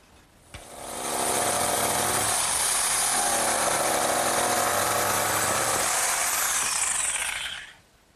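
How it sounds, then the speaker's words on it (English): A power saw cuts through two stacked wooden boards at once, spinning up quickly into a loud, sustained whining roar that holds for about six seconds before winding down. It is close and plays alone. "And now I'll just cut both boards at once."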